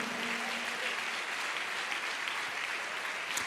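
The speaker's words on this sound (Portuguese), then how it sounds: "Dá um aplauso para o Senhor" A congregation at a family conference church service claps for the Lord, a continuous wash of applause holding at a fairly even level for a few seconds, with no voices on top.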